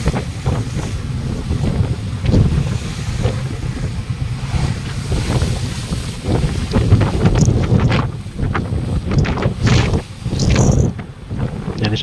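Boat sailing from Indonesia toward the Philippines in rough weather near an island cape, with heavy wind buffeting the microphone and waves slamming the hull in repeated loud surges, continuous throughout.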